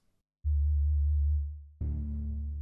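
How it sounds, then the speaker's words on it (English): Synthesizer sine wave layer for low strings, a pure steady low tone held for over a second and fading, followed by a fuller, brighter low sustained note; clean and alone. "And finally, let's add in our sine wave."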